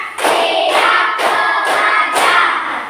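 In a classroom, a group claps together in a steady rhythm, five loud, crisp, evenly timed bursts close by.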